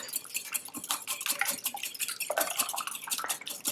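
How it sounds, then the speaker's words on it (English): A whisk clatters rapidly against the side of a bowl of eggs for flan, a steady, busy clinking close by with no voices. "I like to whisk my eggs before I add them to the blender."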